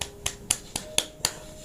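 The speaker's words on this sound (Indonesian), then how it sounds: "tepuk tangan." Six crisp, evenly spaced hand claps ring out in a quick steady rhythm, each one close and distinct against a quiet background.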